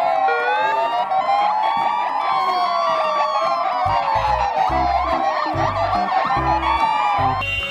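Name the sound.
toy police car siren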